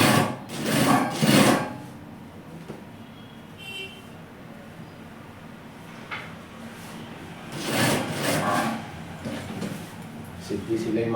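Sewing machine running a straight seam on capri pants, with short bursts of stitching at the start and again later, separated by quieter handling sounds.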